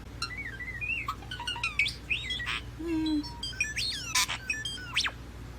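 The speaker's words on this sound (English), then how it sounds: "This bird sounds exactly like R2-D2 from Star Wars." A bird gives a fast, varied run of electronic-sounding chirps, whistles, squeaks and warbling sweeps, robot-like in tone, close and clear over a steady low background hum.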